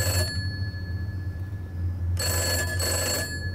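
Bright, rattling telephone bell in the horror game Summer of '58, heard as two close ringing bursts after a stretch of low droning ambience, loud and near.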